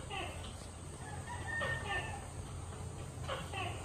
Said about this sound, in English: These are all our native chickens.